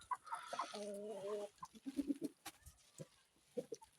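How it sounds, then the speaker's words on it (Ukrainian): Chickens cluck and squawk busily in a winter yard as greens and lettuce are tossed to them, the calls close and overlapping, with a person speaking briefly between them. "Тепер зараз кинемо курям. Тут і салат."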